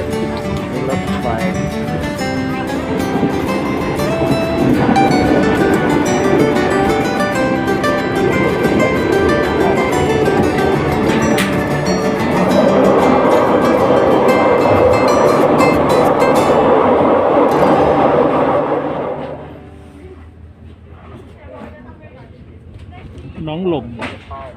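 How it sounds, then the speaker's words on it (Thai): A passenger train rolls along rails for a first-time child rider, giving a steady loud rumble and clatter for about twenty seconds before easing off; children and adults talk over it. "รถไฟ"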